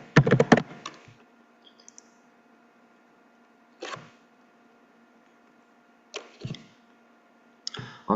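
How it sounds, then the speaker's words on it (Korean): Short bursts of keyboard typing, a quick flurry of key clicks followed by scattered clusters of taps separated by quiet pauses, close up. "키보드 소리가 많이 큰가요?"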